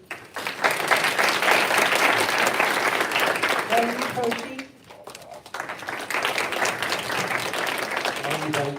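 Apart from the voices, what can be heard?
audience applause for new staff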